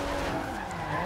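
Tires skid and squeal as a car slides sideways in a drift in Forza Horizon 2, a steady, loud screech with engine noise running for about a second.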